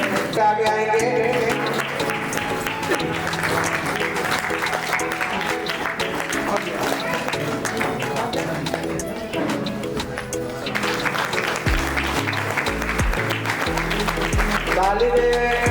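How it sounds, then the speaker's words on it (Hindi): An audience claps at an award ceremony honouring society workers, steady applause heard under amplified music and a voice speaking Hindi over a PA system. "ताली में कमी नहीं होना चाहिए।"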